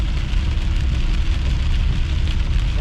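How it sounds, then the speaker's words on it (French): Heavy rain pours down steadily during a June storm, a dense, loud, continuous wash of drops with a deep rumble underneath and no voices. "c'est de la pluie qu'on a en ce moment"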